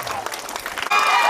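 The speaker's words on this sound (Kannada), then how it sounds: "ಮಕ್ಕಳ ಚಪ್ಪಾಳೆ ಮೂಲಕ ನಾವು ಶಿಕ್ಷಕರನ್ನ ವೇದಿಕೆಗೆ ಬರಮಾಡಿಕೊಳ್ಳೋಣ" Children clapping to welcome a teacher onto the stage at a school alumni felicitation event in Channarayapatna; dense, steady applause throughout, swelling louder and brighter near the end.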